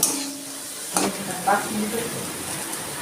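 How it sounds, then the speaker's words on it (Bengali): Onion frying until reddish in a kadai for a lentil mash dish, a continuous close sizzle broken by two or three sharp stirring scrapes, with no talk. "পেঁয়াজটা আমি একটু লাল লাল করে ভেজে নিচ্ছি"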